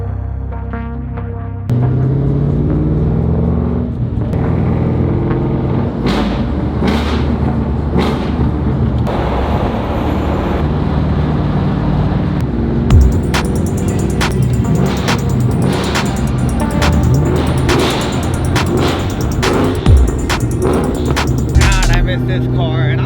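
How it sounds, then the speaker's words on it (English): Terminator Cobra engine held at low revs at a car meet, a steady loud rumble throughout with a few throttle blips rising above it and faint crowd noise in the background. "I'm just giving it baby revs, not even boost revs, and it sounds absolutely incredible"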